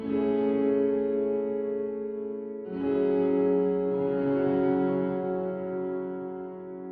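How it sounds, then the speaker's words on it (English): Sustained piano chords drenched in lush, washy reverb with no dry attack, notes blurring into a smooth, hovering wash; a new chord swells in midway. "so we get just the reverb without any of the original signal."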